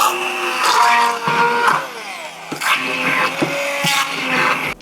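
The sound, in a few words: stick blender blending tofu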